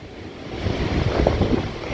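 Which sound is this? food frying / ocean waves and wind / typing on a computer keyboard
ocean waves and wind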